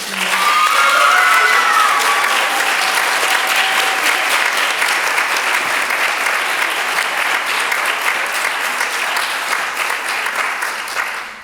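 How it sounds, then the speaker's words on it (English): A school audience claps steadily after a student play of 'Baker Street Irregulars', dense and sustained for around eleven seconds before gradually thinning near the end. "one more round of applause for these awesome actors"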